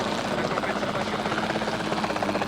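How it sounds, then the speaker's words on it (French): A capture helicopter in the video game Jurassic World Evolution 2 whirs continuously with a dense, steady rotor drone that fills the whole stretch. "Ah, on contrôle l'hélico?"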